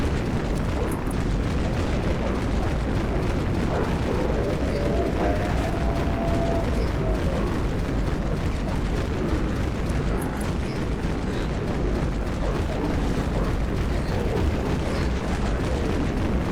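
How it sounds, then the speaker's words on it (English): Grenade-launcher blasts from the X Dusk launcher in Dead Frontier, a dense, continuous wall of booming explosions and rumble that runs loud and unbroken throughout, with no clear gaps between detonations. "this is the X Dusk launcher"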